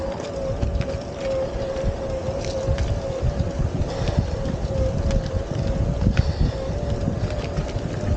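Wind buffeting the microphone while riding a WindOne E20 utility e-bike up a steep hill, a rough continuous rumble with gusty swells and a faint steady whine underneath, no talking.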